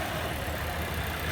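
Audi A3 1.4 T Quattro turbo engine idling with the hood open, a steady close rumble with a constant low hum and airy hiss, no voices.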